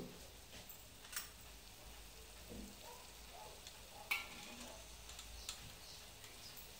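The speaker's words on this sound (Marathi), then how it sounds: "आपण आणि थोडा वेळ हा मसाला भाजून घेऊ" Masala roasting in released oil in a pan for black pea usal, a faint, steady sizzle with occasional scraping stirs and small clicks, close but quiet.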